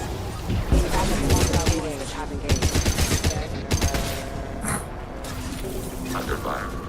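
Rapid automatic gunfire from a Mass Effect 2 firefight crackles in repeated loud bursts, with mechanical clatter and a voice talking over the shooting.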